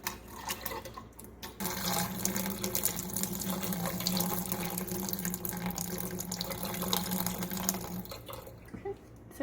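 Water and floating debris poured off tomato seeds in a jar, a continuous splashing, trickling flow that swells after a brief start and runs steadily before tapering at the end.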